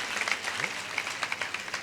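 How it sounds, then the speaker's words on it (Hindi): Audience applause at an All India Mushaira poetry gathering in Nanded, a fairly distant, moderate clapping from the crowd with scattered sharper claps standing out near the end. "तालियां बजाना है तो जोरदार बजाइए"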